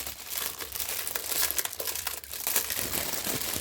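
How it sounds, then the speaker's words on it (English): Continuous crinkling of plastic packaging from a diamond painting kit, close and fairly loud, with steady rustling and crackling throughout and no talking. "So, sorry of all the plastic noise."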